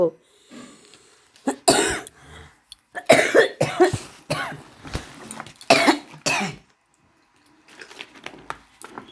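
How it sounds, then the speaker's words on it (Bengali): A person coughing hard several times in a row during a devotional recitation. The close, harsh bursts come with throat clearing and breathy vocal sounds. "এই ভিডিওটাতে আমার প্রচণ্ড কাশি হয়েছে"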